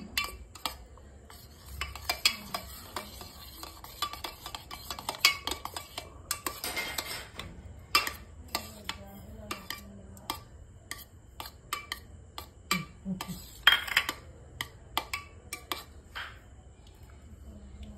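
A spoon clinks and scrapes against a bowl while ginger and garlic are stirred into curd rice, with irregular metallic taps and scraping strokes that come up close and fairly quiet, and a faint voice murmurs now and then.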